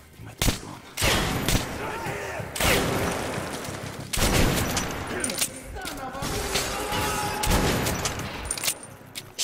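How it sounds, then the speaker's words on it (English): Shotgun blasts and gunfire from the video game Metro Last Light come as several loud bursts amid a chaotic fight, with someone talking and shouting excitedly over the action. "Shotgun!"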